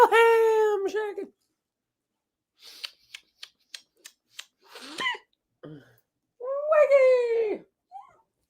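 A pet cat meows several times in a small home, drawn-out cries opening and closing the stretch, with a few short clicks and soft sounds in between.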